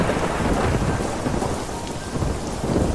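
Heavy rain pours steadily in a broadband wash, with rolling thunder rumbling low underneath throughout; no one speaks.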